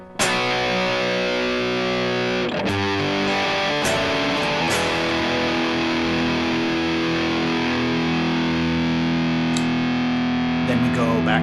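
Distorted electric guitar played with a pick through an effects unit, working through an intro riff. Muted percussive strikes open into ringing sustained chords that hold loudly to the end.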